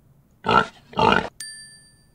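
A pig grunts twice in quick succession, close and clear, followed by a bright ringing chime.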